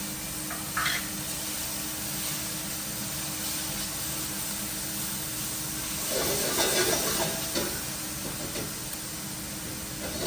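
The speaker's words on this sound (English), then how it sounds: "add the garlic and just let it continue to cook till it's fragrant" Two cloves of minced garlic sizzle in a pot for turkey chili, a steady close frying hiss with a louder crackling surge midway as it is stirred, no talk.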